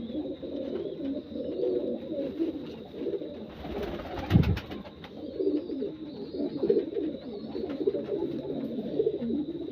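Racing pigeons, including a male, coo in a low, steady murmur throughout, close by, with a brief burst of fluttering or scuffling partway through.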